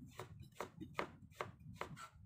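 A knife slices through ginger on a cutting board for pickled ginger, with steady rhythmic cuts about every half second, soft and close, with no talking.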